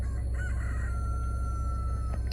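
A rooster crows among farm chickens and sheep at a peaceful homestead, one long sustained crow drawn out over a steady low rumble of background noise, fairly distant and without talk.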